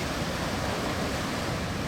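Sea waves wash steadily onto the shore at Fort Kochi, a continuous broad roar of surf with no pause or voices.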